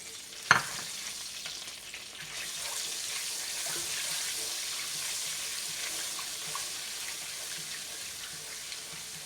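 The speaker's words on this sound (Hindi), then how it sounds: "आधा कप ऑयल में हमने 1 चम्मच ज़ीरा डाल लिया और ज़ीरा डालने के बाद हमने इसमें 1 चम्मच अदरक लहसुन का पेस्ट डाला।" Cumin and ginger garlic paste fry in half a cup of hot oil, opening with a sharp clatter as they drop in and then settling into a continuous crackling sizzle with faint stirring, close and without talk.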